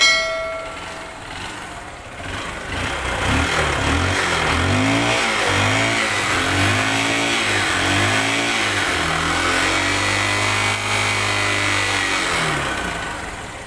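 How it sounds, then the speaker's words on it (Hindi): A motorbike with an engine fault that is blowing white smoke is started and then idles slowly at around 1000 RPM, a steady, loud, close putter with a low uneven throb, and no one speaking. "तो मैं आपको बाइक स्टार्ट करके दिखाना चाहूँगा"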